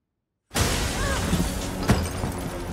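A glass ceiling shattering in the 2023 horror film Saw X: after a moment of silence, a sudden loud crash sets off a dense spray of breaking and scattering debris, with a second sharp impact about a second later.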